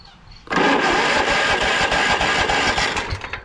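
A small carbureted engine that will not start without priming cranks and catches after a brief quiet moment, then runs loud and rough with a pulsing, uneven note that starts to falter near the end.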